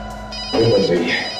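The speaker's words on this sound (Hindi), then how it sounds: "फोन बज रही है।" Telephone ringing in a police office scene, a short burst of ringing tone heard over background music and room sound.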